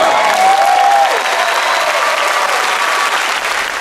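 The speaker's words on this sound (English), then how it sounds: "There was applause during a prayer" A crowd breaks into loud applause during a prayer at a public gathering, sustained dense clapping from a large audience, with a brief shout at the start.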